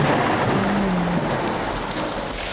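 A thunderstorm brings heavy, steady rain and a deep, rumbling roar that fills the whole stretch evenly and loudly, with no voices.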